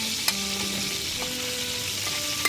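Green beans (bachoqueta) go into a hot Valencian paella pan beside the meat, raising a steady, close, hissing sizzle with a couple of brief clicks and no talking.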